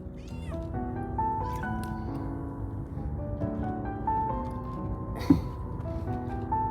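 Several cats meow repeatedly while being given milk in the morning, overlapping calls close by with some drawn-out cries and one sharp loud yowl, over a low background murmur.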